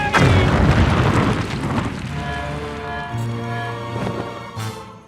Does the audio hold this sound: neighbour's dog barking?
no